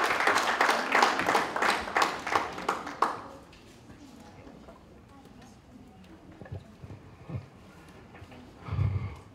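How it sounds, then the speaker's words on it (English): A conference audience at a women and sport event in Uganda applauds a chief guest, a dense loud burst of clapping that fades after a few seconds into room murmur and scattered voices. "Round of applause, round of applause."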